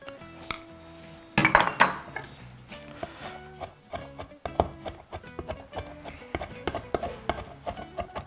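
A kitchen knife chops whole fermented black beans (douchi) on a board. The strikes are quiet and irregular, with a few louder bursts, over faint background music and no talk.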